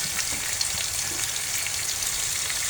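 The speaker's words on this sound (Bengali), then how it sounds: "এই তো মাংসগুলো একটু আমি 5 মিনিটের মতো পেঁয়াজ দিয়ে ভেজে নেব" Chicken pieces fry with onion in a pan, giving a steady, close, even sizzle with no talking.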